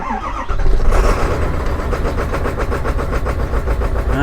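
Ford F450 with a 7.3L diesel engine starting on a cold day, a quick crank that catches into a loud, close, clattering idle with a steady rapid knock.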